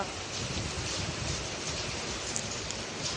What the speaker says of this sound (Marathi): पावसाच्या सरी